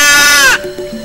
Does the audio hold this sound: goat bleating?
yes